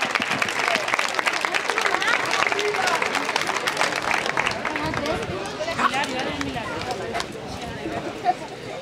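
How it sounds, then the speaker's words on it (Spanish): Audience at a 2015 cultural festival event in Villalba de los Barros applauding a monologist, a dense steady clapping crowd lasting throughout, loud and close, with some voices mixed in. "yo pido un fuerte aplauso para Pepa Guillén"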